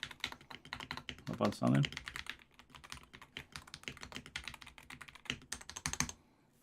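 Rapid, quiet clacking of a mechanical keyboard with Hall Effect switches, keystrokes tumbling in uneven bursts with a brief pause in the middle, while a voice speaks briefly over it.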